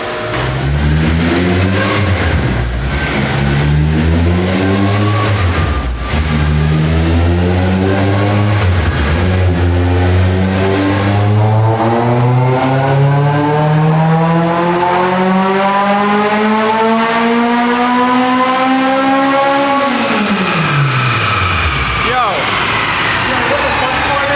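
A Honda Civic Si with a Type-R K20A engine, naturally aspirated, revs hard through a full dyno pull. The loud rising engine note climbs steadily toward redline and then drops off sharply, with people talking over it.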